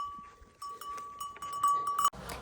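Sheep on a Himalayan mountain trail near Khaliya Top in Munsiyari, Uttarakhand, bleat faintly amid a steady tonal ring and scattered outdoor clatter, ending in a sudden burst of wind or rustle.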